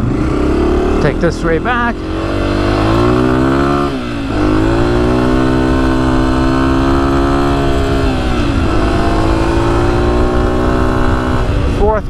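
A 2024 Honda CRF250F dirt bike ridden through hot desert, loud close engine droning and revving with gear changes and a dip mid-ride, a rider speaking briefly over the engine noise.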